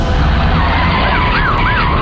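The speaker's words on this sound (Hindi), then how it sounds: "एम्बुलेंस, एम्बुलेंस, एम्बुलेंस को" Ambulance siren in a Hindi-dubbed movie scene, a loud wailing tone rising and falling repeatedly over a dense background rumble.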